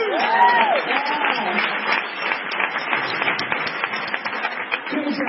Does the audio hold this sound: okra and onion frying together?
no